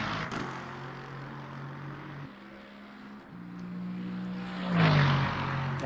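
A race car in a racing video game drones with a steady engine note on throttle, the pitch holding and then rising briefly into a louder swell near the end.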